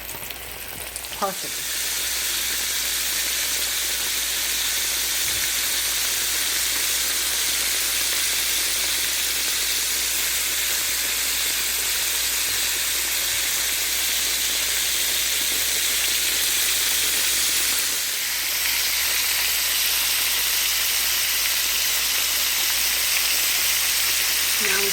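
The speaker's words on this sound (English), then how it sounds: "drop it in our cast iron skillet. Oil is nice and hot" Coated beef fries in hot oil in a cast iron skillet, a loud continuous close sizzle and hiss lasting throughout, with a brief voice near the start.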